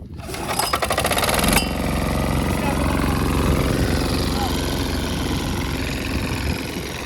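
A diesel walk-behind tractor pulling a plastic-mulch film layer on a melon field starts with a rough catch, then runs at a loud, steady, close chugging idle for several seconds.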